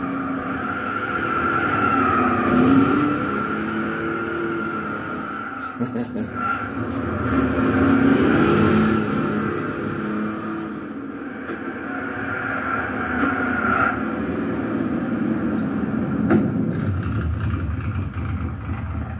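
A supercharged 1970 Dodge Charger 440 R/T engine in a video game idles and rumbles steadily, rising and falling through a few gentle revs, with a voice talking over it at times.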